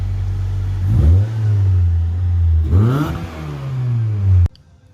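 A 20-valve 4AGE-engined AE92 car revs while driving, its engine note climbing and falling in two distinct rising sweeps over a steady low drone before cutting off abruptly, loud and close.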